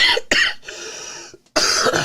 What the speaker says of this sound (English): sorry, don't mean to cough into the mic